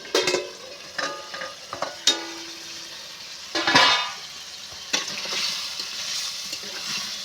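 Potatoes sautéing in a pan, with a quiet sizzle under repeated scraping and knocking as a spatula stirs them against the metal; a louder scrape near the middle and a renewed hiss later, no talk.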